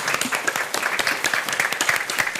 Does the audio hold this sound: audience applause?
yes